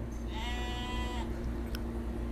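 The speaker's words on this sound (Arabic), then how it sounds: "هذه ثنتين ماعز" One of two goats kept on a farm east of Riyadh, Saudi Arabia, gives a single clear, quavering bleat lasting about a second against a low background hum. Nothing follows it.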